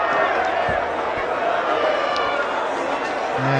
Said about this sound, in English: They're loving every bit of it, the crowd here.